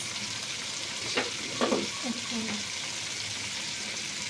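Chicken and vegetables frying in a pan as soy sauce is added, a steady low sizzle with a few brief splashes and stirring scrapes, fairly close.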